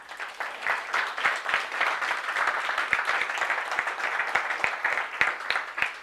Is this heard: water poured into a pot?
no